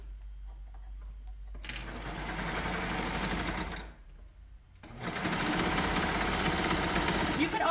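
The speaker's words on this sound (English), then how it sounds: "So now we're going to sew that second side seam." A sewing machine runs the side seam of a thick sweater-knit cardigan in two loud, steady bursts of rapid stitching, with a short pause between them and a low hum underneath.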